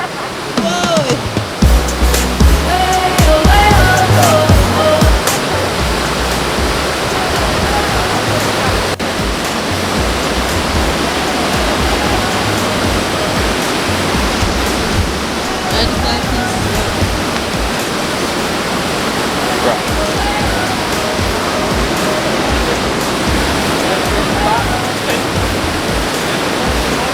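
Steady, loud rush of a river waterfall at Breadnut Valley Falls in St. Elizabeth, Jamaica, a broad continuous roar of falling water with faint voices in the mix.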